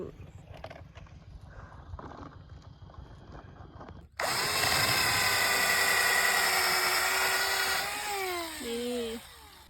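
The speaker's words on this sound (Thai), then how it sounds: "เรามีแบตนะคะ สว่านแบตนะคะ" After some quiet handling noises, a cordless battery drill whirs on loudly and runs steadily outdoors in a farm field, its pitch dipping briefly near the end.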